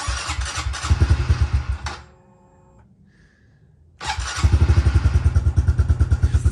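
A snowmobile engine clatters loudly, cuts out for a couple of seconds, then restarts and settles into a rough, steady idle close by.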